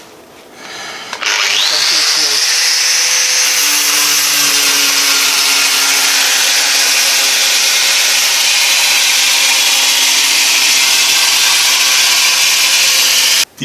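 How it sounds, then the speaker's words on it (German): A small cutting disc on a rotary tool grinds grooves into a laminated fiberglass part, spinning up with a rising whine and then holding a loud, continuous abrasive screech close by until it cuts off at the end. "Ich mache das jetzt mit einer Drahtbürste mit der kleinen Trennscheibe."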